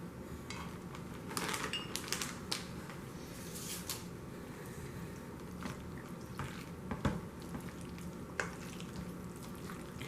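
Taco salad ingredients are stirred together in a bowl with a soft, continuous rustling and crunching, dotted with occasional light clicks and scrapes of a utensil, quiet and close.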